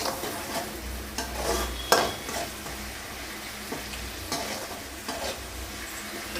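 Curry leaves being sautéed in a pan while cooking cauliflower egg masala, a steady sizzle of frying under intermittent scraping and stirring strokes of a spoon against the pan, close and moderately loud.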